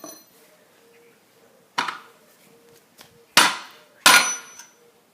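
Sharp hammer blows drive a wooden wedge into a split in wood: four distinct knocks, the last two loudest and ringing, separated by quiet gaps with a faint hum.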